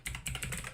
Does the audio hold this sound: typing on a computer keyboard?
yes